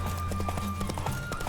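A horse gallops in a race in The Witcher 3, its hooves sounding a fast, steady clip-clop close by with faint ambient sound beneath.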